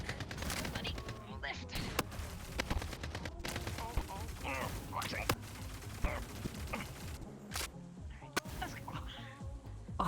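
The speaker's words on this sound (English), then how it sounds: "Whoa, careful, there's gunfire, there's gunfire," Video game gunfire crackles in scattered sharp bursts and single shots, some near and some more distant, with faint voices underneath.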